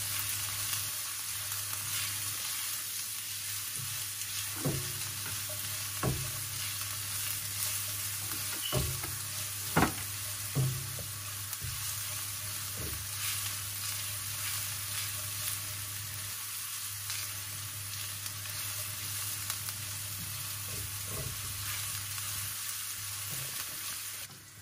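Chopped onions fry in a pan over a steady low hiss, with scattered clicks and pops and the occasional knock of a utensil.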